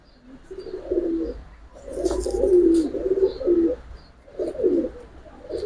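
Pigeons coo in low, throaty bursts, several phrases repeating with short pauses between, close by and fairly steady in volume.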